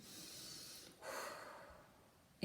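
One deep breath is taken during an EFT tapping session, a soft breathy inhale followed by a slightly louder exhale, faint and close in a quiet room.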